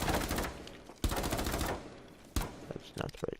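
Rapid automatic gunfire in Rainbow Six Siege, shooting down through a floor from a master bedroom and bathroom. Two loud, close bursts are separated by a short pause, followed by scattered shorter shots and impact sounds.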